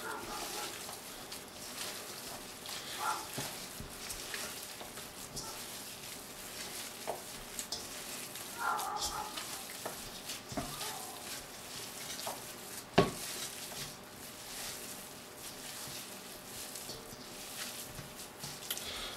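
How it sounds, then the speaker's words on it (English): Hands mix and fold ground meat for stuffed bacon cheeseburgers, making soft, wet squishing and patting sounds in an irregular rhythm, close but quiet, with one sharper knock midway. "And we'll just mix this up, fold it over a few times."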